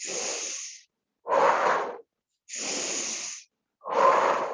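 Four heavy huffing breaths during a mat exercise, alternating inhales and exhales in a steady rhythm, close and loud with short silent gaps between them.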